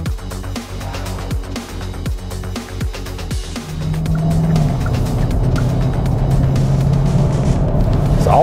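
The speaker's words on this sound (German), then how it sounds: "Beschleunigt auf der Autobahn sehr gut nach oben raus." Hyundai Tucson Plug-in Hybrid N Line SUV with 265 hp accelerating on the Autobahn, a steady loud rumble of engine and road noise that swells midway and holds at a higher, fuller level, with no one talking.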